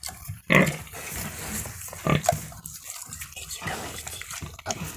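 A pig in a farm pen gives several short, loud grunts in irregular bursts close by, with faint dripping and liquid sounds between them.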